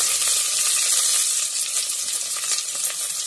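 Onions and green chillies sizzle steadily in hot oil inside a pressure cooker as pulao is prepared, a loud, continuous frying hiss with no voices.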